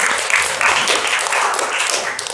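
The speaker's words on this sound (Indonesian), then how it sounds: "Terima kasih, tepuk tangan untuk Alin." A small group applauds for a couple of seconds, steady close clapping with a murmur of voices.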